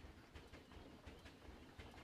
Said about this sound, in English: Is there a train going by?